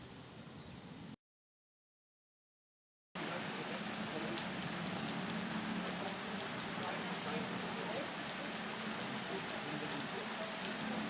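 Steady rain falls outdoors as a dense, even hiss that fills the scene, cutting out briefly to silence before resuming at the same strength.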